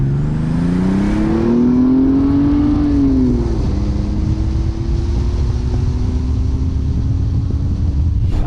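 A 400bhp 2JZ-engined Toyota Supra accelerates hard, its engine note climbing steeply in pitch, dropping briefly at a gear change, then rising again, loud and close from inside the car.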